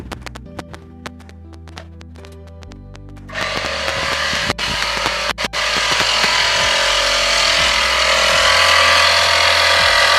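Small budget portable tire inflator compressor pumping a car tire, a sharp beeping sequence then a loud, steady buzzing motor drone close up that runs continuously to the end.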